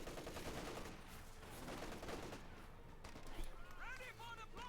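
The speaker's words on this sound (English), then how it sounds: "the West troops being held down here with a machine gun" Machine gun fire in the World War II strategy game Company of Heroes 2, a dense rattle of rapid shots going on under a commentator's steady speech.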